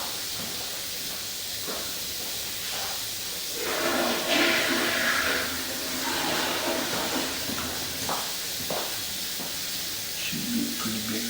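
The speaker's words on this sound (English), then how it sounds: "I'm going to also flush the toilet" A toilet in a house is flushed, giving a hissing rush of water that swells midway and tapers off over several seconds, fairly quiet with some clunks and no voices.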